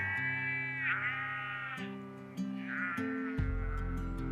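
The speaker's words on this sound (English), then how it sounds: "all our lambs are out there being fattened" Lambs out in a spring field on a farm near Omarama bleat repeatedly, with two long wavering calls and other overlapping bleats from nearby animals over a steady low rumble.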